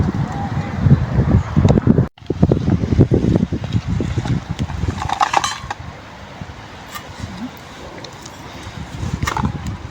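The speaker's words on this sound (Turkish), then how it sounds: "Burası iyi esiyor." Wind blows across a hilltop outdoors, rumbling and buffeting the microphone in strong gusts before easing to a softer rush, with voices talking over it.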